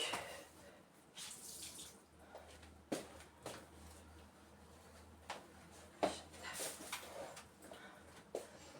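Tap water runs while something is being washed, a faint, distant splashing flow with intermittent clatters and bursts of spray, no voices.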